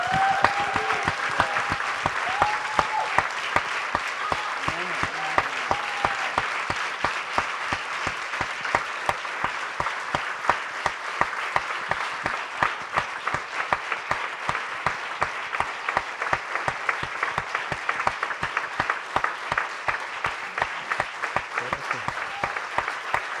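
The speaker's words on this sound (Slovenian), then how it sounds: "prejmejo še enkrat svoj res dobro zaslužen aplavz" A premiere audience for the Slovenian film Družina gives the film crew a long round of applause, at first a dense wash and then settling into a steady rhythmic unison clapping with sharp regular beats that continues for over twenty seconds.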